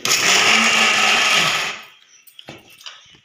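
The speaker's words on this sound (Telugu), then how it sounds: "తర్వాత మిక్సీ చేసుకోవాలి" A mixer grinder whirs loudly at close range for under two seconds, grinding raw tamarind pickle, then cuts off, leaving a few light clicks and knocks.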